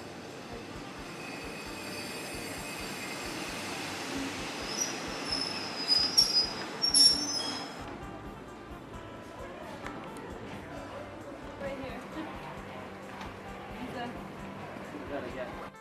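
A train on the Laos historic railway rolls along the track with rumbling and a high metallic wheel squeal that swells midway, heard at a moderate distance.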